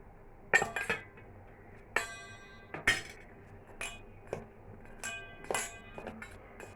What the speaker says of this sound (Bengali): আর এবার ব্ল্যাক পেপার দেব, দিয়ে এটাকে ভালো করে মিক্সিং করব।